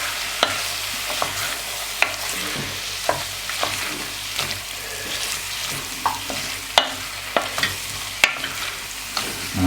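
A spoon repeatedly scraping and stirring beef stew with red wine, bœuf bourguignon, in a pot, with sharp regular knocks against the pot over a soft simmering sizzle, close and steady throughout.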